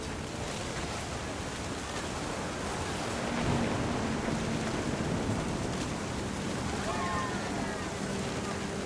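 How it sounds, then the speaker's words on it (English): A storm with thunder and rain from the video game What Remains of Edith Finch. A steady, heavy wash of rain continues throughout with a deep rumble underneath that swells midway. Faint higher tones come in near the end. "The thunder sounded much too close and full of angry power."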